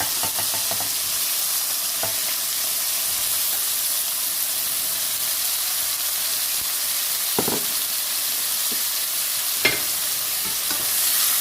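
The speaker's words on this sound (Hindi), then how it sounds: "मिक्स कर लेते हैं, अच्छी तरह से इसे भूनते हैं" Cauliflower and mixed vegetables for a korma fry in a hot pan, giving a continuous loud sizzle and hiss with occasional scrapes and clicks of a stirring spoon; no talking.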